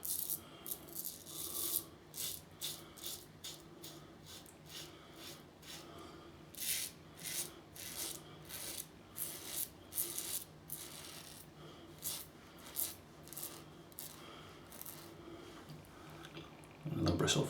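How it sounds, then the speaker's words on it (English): A Parker Variant safety razor shaving across the grain, with short repeated scraping strokes that come close and clear in quick bursts, with pauses between passes. "It's this across the grain pass, it's singing."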